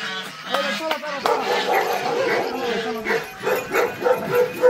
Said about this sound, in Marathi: ह्या साईडला तुम्हाला आवाज असेल कुत्र्यांच्या भुकायचा